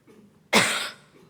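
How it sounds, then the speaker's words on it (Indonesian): A single sharp, close cough breaks through a quiet moment during a Sunday church service, then fades quickly back into near silence. "Tuh, nggak nyanyi aja batuk."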